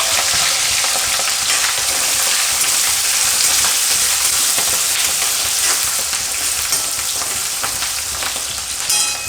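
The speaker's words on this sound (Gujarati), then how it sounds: "તો તેલ આપણું ગરમ થઈ ગયું છે, તો એમાં આપણે નાખીશું હિંગ. તો હિંગ નાખીને આપણે મરચાં નાખી દઈશું." Asafoetida and chillies fry in hot oil as the start of an instant Gujarati chilli pickle, producing a loud, dense, continuous sizzle close up with no voices.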